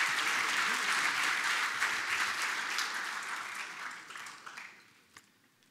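Official ceremony applause from a large audience: thick, continuous clapping that gradually tapers off toward the end, leaving a few isolated claps over a quieter room.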